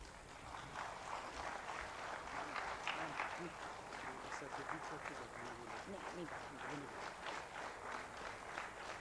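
Applause from an audience honoring the governor at a large blood donation camp, a steady patter of many hands with some rhythmic clapping and murmuring voices mixed in throughout.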